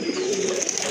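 A large racing pigeon coos once in a low, steady hum over a bright background hiss, brief and fairly close, with no voices heard.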